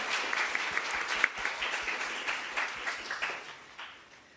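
A church congregation at a Sunday youth worship service applauding together, a dense, steady burst of clapping that gradually fades, with no talking over it.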